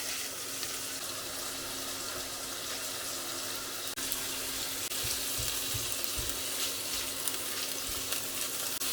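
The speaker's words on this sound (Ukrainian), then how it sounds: "З одного боку підсмажуємо сало, а з іншого я ці 6 штучок грибочків також підсмажу до рум'яної скоринки" Pork fat and six mushrooms frying in a pan for a golden crust, giving a steady close sizzle with soft crackle, a few low knocks as pieces are moved around the pan.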